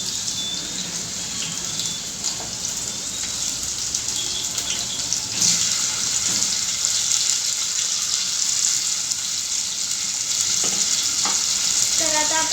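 Onion and tomato fry in a pan, giving a steady, close sizzle. Occasional stirring clinks and scrapes sit over the continuous crackle.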